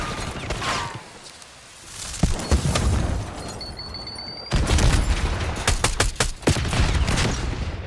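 Gunfire in an online multiplayer shooter: repeated sharp shots and bursts crackle through most of the stretch, with a brief lull before a denser, loud run of firing.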